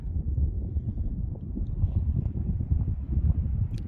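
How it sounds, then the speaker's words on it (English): Low rumbling high-desert wind near Mount Charleston buffets the microphone in uneven 20 to 30 mph gusts, a steady muffled roar with no voices. "Good 20 to maybe 30 mile an hour gusts"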